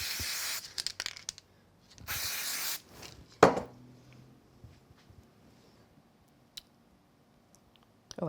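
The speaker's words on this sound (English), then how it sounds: "I'm just going to give this one a quick spray with some glue" Two bursts of aerosol spray hiss, each roughly a second long, followed by a sharp rustle and then quiet light handling noises.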